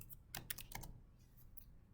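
Quiet clicks of typing on a computer keyboard in a classroom, a short burst of several keystrokes followed by a couple of sparse taps, faint and without voices.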